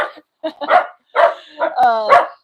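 An excited pet dog lets out a series of short, sharp barks and yips in quick irregular bursts, close by, with a brief higher whine among them.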